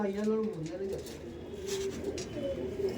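Tournament racing pigeons in a loft coo in repeated soft, throaty bursts close by, while someone talks over them.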